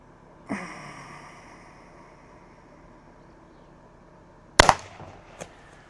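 Two shots from a Byrna LE launcher fired outdoors: a sharp pop early with a short decaying tail, then a louder, crisper crack later followed by a quick impact and a faint trailing knock.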